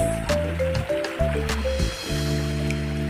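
River water flowing near San Andres, Tanay, Rizal, a steady, close liquid rush with a few sharp splashes, heard under a constant tonal background hum and no talking.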